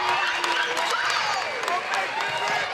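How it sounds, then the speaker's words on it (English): A gym crowd at a high school basketball game cheers and claps steadily after a made shot, a dense roar of voices throughout. "The crowd goes mild"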